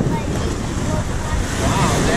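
Waves wash onto the shore at Blind Pass Beach on a rough day, a short burst of surf and wind-buffeted rumble, close and continuous.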